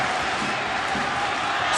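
A stadium crowd of over 30,000 at a late-stage soccer match between FC Cincinnati and the New York Red Bulls roars as a steady, dense wash of noise, with no single voice standing out.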